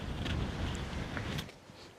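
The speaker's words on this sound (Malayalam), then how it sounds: "നല്ലോണം കാറ്റടിക്കുന്നുണ്ട് ഇവിടെ" Wind blows hard across the microphone at the Palakkayam Thattu hill viewpoint, a dense continuous roar that eases slightly near the end.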